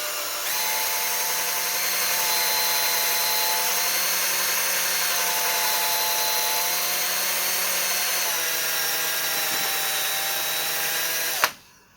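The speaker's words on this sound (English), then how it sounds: "and just run my drill" An electric drill spins a knob wrapped in microfiber cloth for polishing, running steadily at high speed for several seconds with a constant whine, then cutting off abruptly near the end.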